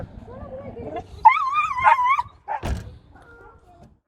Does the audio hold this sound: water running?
no